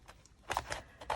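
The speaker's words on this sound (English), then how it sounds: "I can just trim around the edges. So I'll just grab my scissors and" Scissors trim excess paper from the edges of a journal page, with several short crisp snips in an uneven rhythm, close and fairly quiet.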